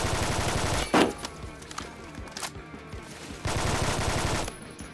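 Rapid automatic bursts from a Groza carbine in the Phantom Forces shooter game, with sharp repeated cracks in two long volleys separated by brief single shots and quieter gaps.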